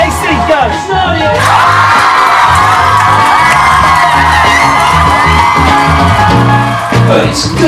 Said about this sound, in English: Keep the applause coming.